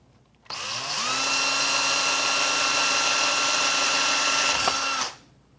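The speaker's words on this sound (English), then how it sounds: "And so I've got a drill bit set up on the drill." A power drill fitted with a bit drills a hole for self-tapping screws while mounting boat guide post lamps: one steady, loud whine runs about four and a half seconds, then winds down.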